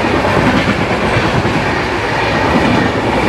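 The Shaktipunj Express rolls into Raniganj station, its wheels clattering in a loud, dense, continuous clickety-clack with a heavy rumble throughout.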